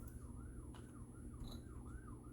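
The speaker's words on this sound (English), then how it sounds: "Sirens in the distance." Distant emergency sirens wailing in a rising and falling pattern, faint and far off against low background rumble, with no one talking.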